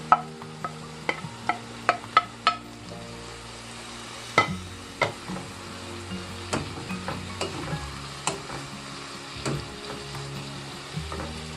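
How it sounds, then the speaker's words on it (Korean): Taro stem namul simmering and sizzling in a pan after red and green chili peppers go in, with a steady bubbling sizzle broken by sharp utensil clinks and stirring taps, no voices. "어느 정도 이렇게 자글자글 끓여지면 홍고추와 청고추 넣습니다"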